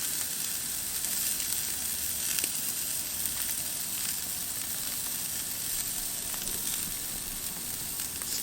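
Skirt steak and flanken-style ribs sizzle on a grill, a steady close crackling hiss with scattered pops that runs alone and evenly throughout.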